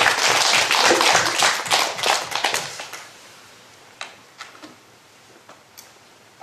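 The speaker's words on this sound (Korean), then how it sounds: "이쯤 되면 하나님 앞에 박수를 돌려야 되겠죠." An audience claps together during a church lecture on the Holy Spirit. The burst is dense and fairly loud for about three seconds, then thins to a few scattered, sharper claps.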